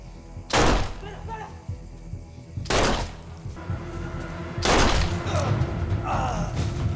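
Gunshots in a scene from the TV series Reacher: three loud, sharp bangs a couple of seconds apart, each with a short ringing tail, with muffled voices and background sound in between.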